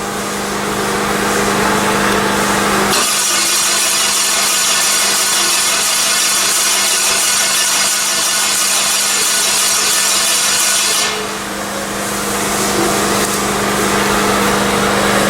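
A Mazda FE engine with a mechanical fault cranks without starting, a loud, rhythmic churning that starts abruptly, runs steadily for several seconds and then stops, leaving a lower background hum.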